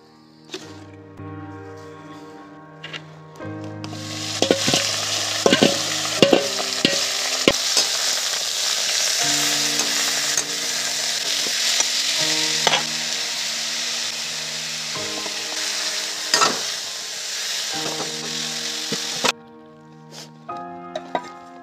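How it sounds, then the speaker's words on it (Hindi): Mixed wild riverside vegetables, boiled first, sizzle loudly in a pan and are scraped and stirred in irregular clinks and scrapes throughout. "यानी इसको इस तरह से निचोड़ के फ्राई करके आज खाएगा।"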